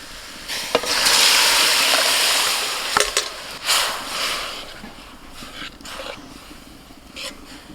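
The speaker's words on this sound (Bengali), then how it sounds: "এবার ডালটা ঢেলে দিচ্ছি।" Lentils are poured into a hot onion tempering, setting off a loud burst of sizzling and splashing that fades into softer bubbling, with a few sharp clinks of a spoon against the pan.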